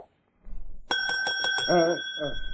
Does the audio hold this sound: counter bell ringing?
yes